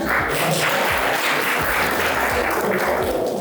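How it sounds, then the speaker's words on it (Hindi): Students at an inter college in India clap together in a steady, dense burst of applause that fills the room evenly from start to finish, with no speech over it. "जो लोग करते हैं उनके लिए पहले तालियां बजाओ भाई।"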